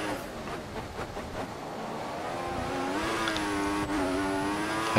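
Formula 1 car engine in the F1 2014 racing game with a 2015 mod, qualifying in Australia, a steady whine climbing smoothly in pitch and growing louder over the span, without talk.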